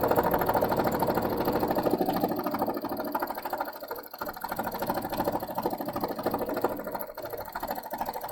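A sewing machine stitches small free-motion quilting stitches in a fast, steady mechanical whir with a rapid needle rhythm, running continuously with a brief dip partway through.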